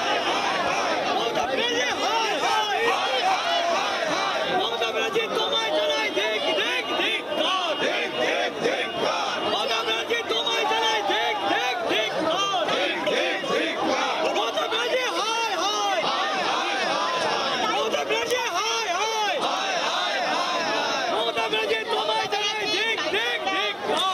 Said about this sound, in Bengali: সিইও দপ্তরে ইতিমধ্যে বিএলওরা যারা রয়েছেন তারা বিক্ষোভ দেখাচ্ছেন